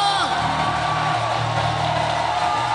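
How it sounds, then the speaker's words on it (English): A church congregation shouting praise, a loud sustained mass of whoops and yells from a crowd filling the room, with no pauses. "clap and give Jesus a resounding sound of praise"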